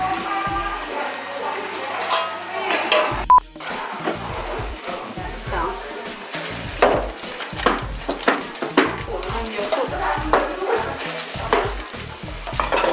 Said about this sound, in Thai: ผัดเบคอนค่ะเพื่อจะใส่ไปในสปาเกตตี